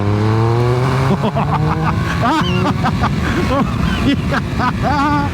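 A Triumph Speed Triple 1200 RS sport motorcycle engine revs up and down repeatedly, past 6,000 rpm, its pitch climbing and dropping with gear changes, while someone talks over it.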